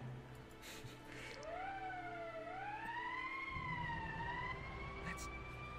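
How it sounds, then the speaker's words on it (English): An emergency siren in the game Valkyria Chronicles wails, rising and falling in long sweeping tones over a low background hum, with no talking. "That's the emergency siren."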